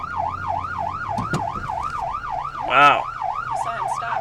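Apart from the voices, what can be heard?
ambulance siren while driving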